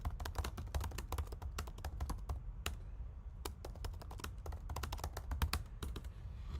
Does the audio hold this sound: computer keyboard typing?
yes